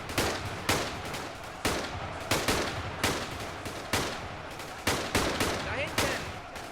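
German soldiers keep firing on a zombie horde in a huge World War II battle in Ultimate Epic Battle Simulator, loud rifle shots cracking in a steady, uneven rhythm roughly every half second, with a voice underneath.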